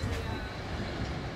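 A Trans-Siberian Railway train travelling across Russia gives a close, steady low rumble inside the carriage, continuous and loud over a short stretch.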